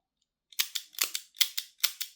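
A Smith & Wesson M36 Chiefs Special model revolver has its cylinder spun, giving a quick burst of about eight crisp, metallic clicks in close succession after a moment of silence, loud and near.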